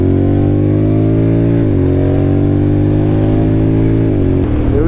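A 2023 Honda X-ADV motorcycle with a twin exhaust runs loud and close, its engine drone steady and then rising in pitch through two revs with brief drops between, and nobody talking.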